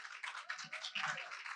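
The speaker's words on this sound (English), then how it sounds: "Please give a round of applause for Dr." Applause from an audience at a health education event greets a speaker, a soft, distant wash of clapping that holds steady through a short moment.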